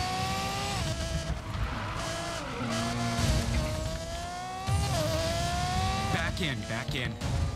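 Racing cars whoosh past in traffic lanes in the Need for Speed Payback video game, engine tones rising and falling with tire noise and skids, running continuously at fairly quiet level.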